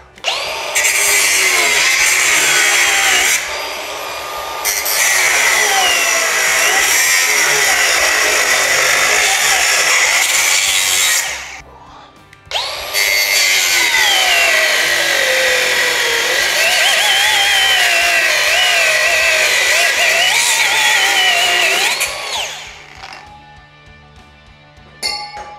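Angle grinder cutting off a metal bracket on a homemade mini trike powered by a Briggs & Stratton engine: a loud, close, high whine with a screeching metal cut, pausing briefly twice before winding down.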